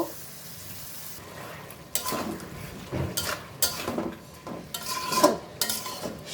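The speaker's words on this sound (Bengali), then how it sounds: "সবজিটা আমি এখন সরা দিয়ে ঢেকে রান্না করব" Mixed vegetables with mustard cook in a pan with a little water, giving a constant sizzle broken by repeated spoon scrapes and knocks against the pan.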